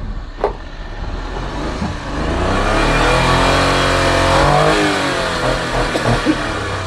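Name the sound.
car engine being revved during a test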